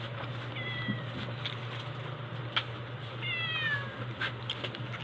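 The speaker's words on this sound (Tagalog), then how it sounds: "Yung pusa ko si Tubi nang hihingi ng pagkain" A pet cat named Tubi meows repeatedly, begging for food at lunchtime, with several rising-and-falling cries close by over a steady low hum in a quiet room.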